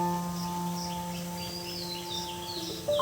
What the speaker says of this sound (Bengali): বলছে কুকু কুকু, জানেন তো কি পাখি ডাকছে